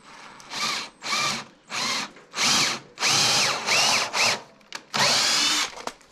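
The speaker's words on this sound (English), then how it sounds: "we're about to drill this out now. We're using our pilot bit here." A power drill with a pilot bit bores into wood for a heavy-duty workbench, whining in about seven loud, close bursts with short pauses between, each spinning up, holding, then cutting off.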